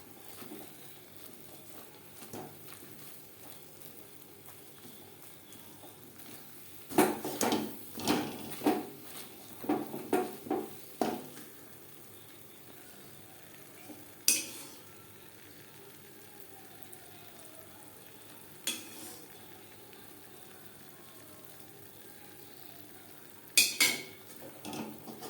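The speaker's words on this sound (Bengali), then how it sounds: "অ্যাড করতে হবে আর নাড়তে হবে" A spoon scrapes and stirs a dilkhush mixture with oil and ghee in a pan (kadai), giving scattered clattering strokes in bursts, some close and sharp, over a quiet kitchen background.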